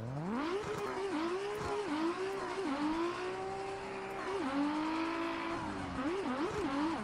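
Lamborghini with a 2JZ engine drifting in a racing video game, engine note held high and rising and dipping with gear shifts and throttle blips over tire squeal, loud and continuous without talk.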